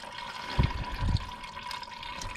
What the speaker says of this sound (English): As you can see, there is a coolant leaking into my container.